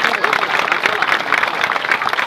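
An audience at a Tamil stage drama event claps vigorously, producing a fast, dense burst of applause that stays loud throughout.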